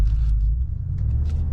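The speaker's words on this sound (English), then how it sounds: "I didn't realize the car turned back on, actually." Low, smooth rumble of a Mercedes-AMG G63 twin-turbo V8 idling after restarting, a steady deep hum heard from inside the cabin with no other sounds.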